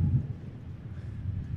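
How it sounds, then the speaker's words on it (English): Low rumbling buffeting of wind hitting a microphone, steady and close for a brief moment. "quite windy here."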